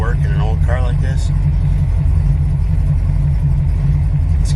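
A 1972 Chrysler Town & Country wagon with a 440 V8 idles nearby with a heavy, steady low rumble, and someone talks briefly over it at the start.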